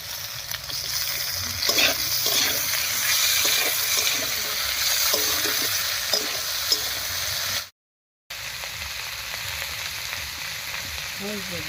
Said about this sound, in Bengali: আলু আর টমেটো একটু ভাজা ভাজা মতো করে নিয়েছি।